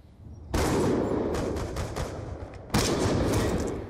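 Gunfire in a video game: a loud, close blast erupts and rumbles for about two seconds, then a second sharp shot crashes in with a long echoing tail, no voices over it.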